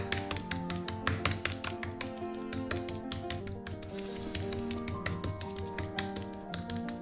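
Thalipeeth dough being patted flat by hand on a wet cotton cloth, with steady soft taps repeating close by, set over a busy kitchen background with a low hum.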